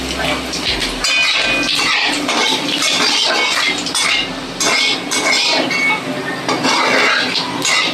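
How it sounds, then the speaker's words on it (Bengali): Cumin seeds, bay leaf and dried red chilies sizzle in hot oil in a kadai, a steady bright crackle and hiss running throughout with scattered metallic clinks from a utensil against the pan. "আবার তেল আমার গরম হয়ে গেছে, জিরে, তেজপাতা, শুকনো লঙ্কা ফোড়ন দিয়ে দিলাম।"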